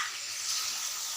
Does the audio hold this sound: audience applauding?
no